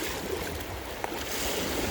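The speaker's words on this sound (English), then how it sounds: "I've seen a handful of deeper rapids like this" A kayak moves through shallow rapids on the Humber River, with a continuous rushing, splashing water wash and a brief knock near the middle, close by, with no talk.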